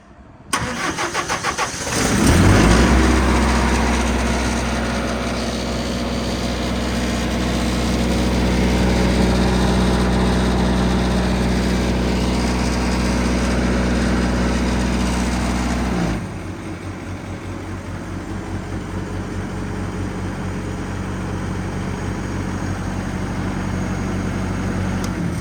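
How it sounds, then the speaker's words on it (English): A Lincoln Vantage 500 welder engine mounted on a 2018 Kenworth T370 service truck cranks briefly, catches loudly and settles into a steady, close idle that drops to a lower, quieter idle partway through. "it's a Lincoln Vantage 500 welder. I'll go ahead and just start this up right now."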